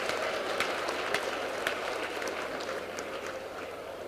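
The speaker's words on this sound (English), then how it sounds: "Please give them all a big round of applause" Audience at an evening judicial reception clapping, a diffuse spread of many hands applauding steadily in a room, fairly faint and without voices over it.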